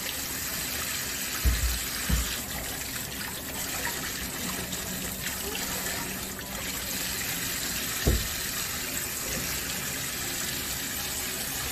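Tap water gushes steadily as eggplant is washed under clear running water in a home kitchen, a continuous splashing flow with a few brief low thumps of handling, no talking.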